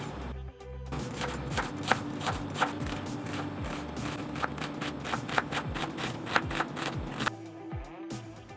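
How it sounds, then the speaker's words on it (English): A knife finely chops an onion on a cutting board, a fast steady run of close, crisp taps that starts after a short pause and stops abruptly near the end. "Finely chop an onion."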